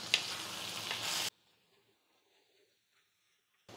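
A short burst of frying sizzle and stirring from brinjal curry in a pan, loud and close for just over a second, then near silence with faint kitchen clatter.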